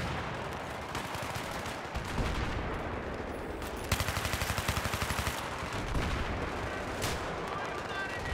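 Battlefield 3 firefight on the Grand Bazaar map in Rush mode: dense, continuous gunfire with a burst of rapid automatic shots around the middle, loud and close, with heavy rumbling blasts throughout.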